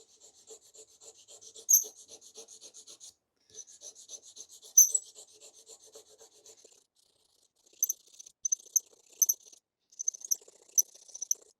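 A Ninja blender blade edge is worked on a 1000 grit whetstone in bursts of quick, faint, high scraping strokes, first in two longer runs and then in short scattered rasps.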